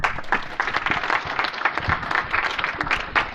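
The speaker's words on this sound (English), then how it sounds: "Big round of applause." An audience at a startup pitch event gives a round of applause after a founder's pitch, a close, continuous burst of many hands clapping at an even loudness from start to finish.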